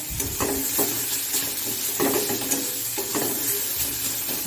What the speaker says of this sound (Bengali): এখন হচ্ছে বিট ভাজা